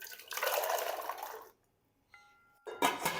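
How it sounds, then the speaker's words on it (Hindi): Turnips go into a pot of water for a turnip chicken curry. A close, splashy rush of water is followed by a brief quiet clink and then another burst of splashing. "तो यहाँ मैं शलजम डालता हूँ सबसे पहले"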